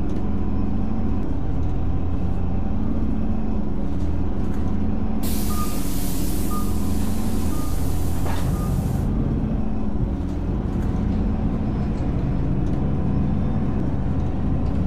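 A hybrid city bus on the Queen East 513/501D replacement route drives with a steady low engine and road rumble, broken midway by a loud hissing burst of air brake release lasting several seconds.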